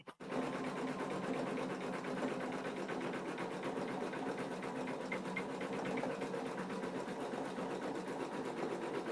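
A home embroidery sewing machine runs a stitch pattern with a steady, fast mechanical whir that fills the whole stretch after a short bump at the start, quiet and continuous with no voices.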